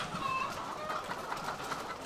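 Chickens on a working hen farm raising eggs, a dense chorus of clucking and chattering birds filling the barn steadily at close range, with faint cries rising above the constant flock murmur.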